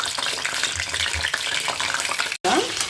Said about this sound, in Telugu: తర్వాత బాణలో నూనె వేసుకొని వంకాయలు వేసుకొని మగ్గించాలి.